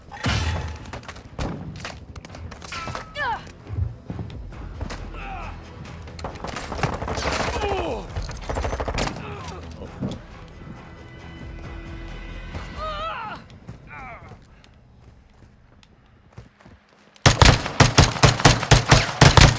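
DMR rifle fire in Modern Warfare 2, a free-for-all match with iron sights, scattered gunshots and thuds amid game noise, then a rapid burst of loud shots near the end, with someone talking at times.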